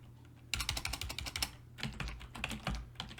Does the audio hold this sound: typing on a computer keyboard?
yes